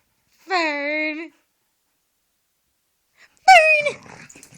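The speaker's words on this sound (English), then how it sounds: "Hey, doggy." A dog gives a long, drawn-out whimpering whine, falls silent, then lets out a second shorter, sharper whine followed by faint snuffling, close and clear in a quiet room.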